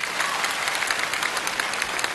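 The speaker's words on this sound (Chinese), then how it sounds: "这时候该要掌声了，鼓掌" A studio audience at a Chinese comedy and variety show breaks into steady applause, a dense, even wash of clapping that carries on without a break and without voices.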